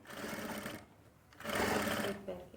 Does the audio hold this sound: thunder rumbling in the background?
no